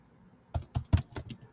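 Computer keyboard typing, a handful of close, distinct key clicks in an irregular burst of about six strokes after a short quiet start, no talk.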